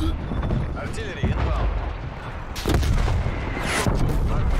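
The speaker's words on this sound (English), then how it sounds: "Hostile artillery targeting active." Booming artillery shells and gunfire in the Call of Duty Black Ops Cold War multiplayer hardpoint mode, several heavy blasts rolling in over a few seconds amid background game noise and some voice chatter.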